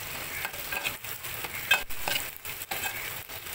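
Onion, ginger and garlic fry in a pan with a dense, steady sizzle broken by repeated stirring strokes that scrape and pulse at a quick rhythm, close and clear with no talk.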